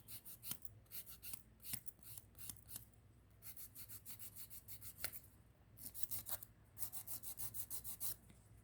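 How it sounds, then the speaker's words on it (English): A nail file rasps back and forth across a small toenail in quick, rhythmic bursts of soft scratching strokes, close and quiet, with short pauses between runs and no talking. "I'm filing the little one as well in preparation for nail polish application"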